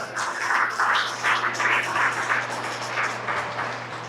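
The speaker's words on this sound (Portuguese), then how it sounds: "Outro salve de palmas para Bia" A church congregation applauding for Bia, steady clapping from many hands in waves over a low constant hum.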